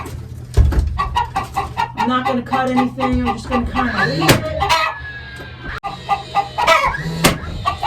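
Hens cluck and a rooster crows close by while a person talks over the flock.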